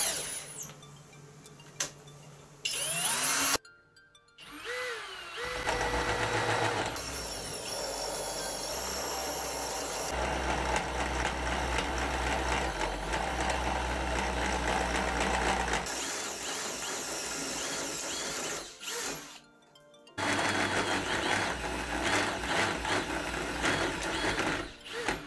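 A homemade tube notcher running in a shed right after being lubricated, giving a steady mechanical whir and grind with rattling tool noise that runs for long stretches, broken by a few short pauses and then restarted.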